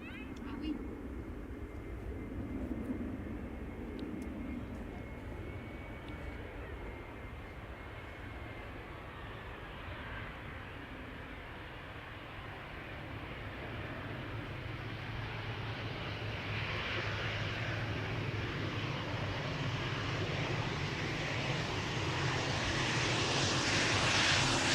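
A KLM passenger jet arriving from Rennes lands at Amsterdam Schiphol Airport, its engine roar building steadily from a distant rumble to a loud, broadband whoosh as it nears, with a voice talking over it.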